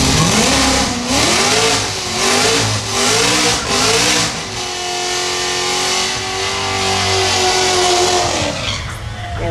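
A Corvette drag car launches hard at St Thomas Dragway, its loud engine roaring and sweeping up through the revs in repeated surges, then holding a steady high drone as it pulls away down the strip.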